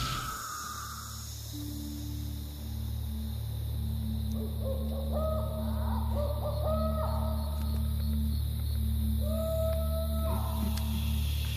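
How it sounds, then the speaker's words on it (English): Owls call at night in the Australian bush with low, drawn-out hooting tones that repeat steadily, heard at a middle distance over a constant bed of insect and cricket chirring. "Owls."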